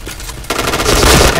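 Short burst of gunfire in the Point Blank shooter game, a quick cluster of sharp close shots rising in loudness over a second, with no talking.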